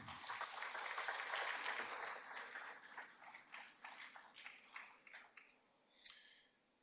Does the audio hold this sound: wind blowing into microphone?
no